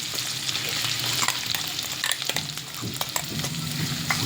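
Mutton keema frying with green chilli paste in a pan, giving a steady close sizzle with repeated scraping and stirring strokes and no talk.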